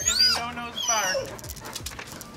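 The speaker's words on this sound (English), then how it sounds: "if you hear Indy No No's bark," A dog yips and whimpers in high, rising and falling cries close by, followed by quieter rustling.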